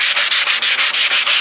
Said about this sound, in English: Just really got to get down to it and sand it.